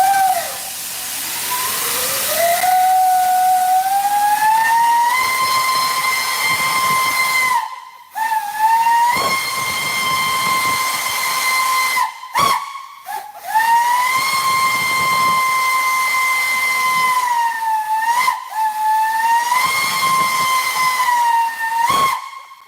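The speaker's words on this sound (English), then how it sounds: "Here's a clip of one of the Banshees being blown at 160 psi." A Southern Railway Banshee steam whistle blown at 160 psi gives several long, loud, steady chime-like blasts with a rising start and hissing steam, broken by short gaps, heard alone.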